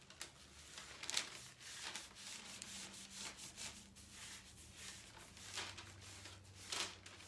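A hand rubs and smooths plastic wrap over a craft surface, giving soft, close, continuous rubbing and faint crinkling strokes with occasional sharper swipes, no talking.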